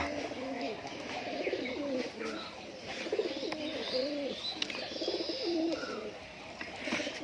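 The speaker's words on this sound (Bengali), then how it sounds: "সব তল গরম পায়রা।" Tolgorom pigeons coo in repeated soft, throaty rolls at close range, with faint chirps and a low background murmur.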